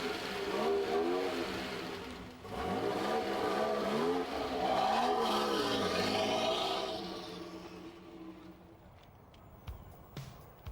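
A Ferrari 288 GTO supercar accelerating on a race circuit, a close loud engine note rising through the gears with pitch sweeps, then fading into the distance, no talking.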